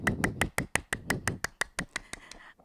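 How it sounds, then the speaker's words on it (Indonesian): Children at a kids' church service clap their hands in a steady run of about fifteen sharp, close claps, evenly spaced and slightly quickening, then fading softer at the end, with no talk over them. "Tepuk tangan yang meriah."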